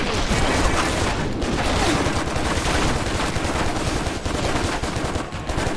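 Dense, loud, continuous gunfire from the video game Stranglehold, sustained bursts of automatic fire with no pauses throughout.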